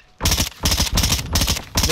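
SMG fire in Call of Duty: Modern Warfare II, three loud rapid-fire bursts in quick succession separated by brief pauses, close and dominant with no talking.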